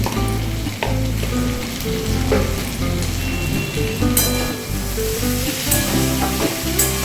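Potatoes and pointed gourd frying in a pan, a loud, dense crackling sizzle with occasional stirring scrapes and pops, close and continuous, no voices.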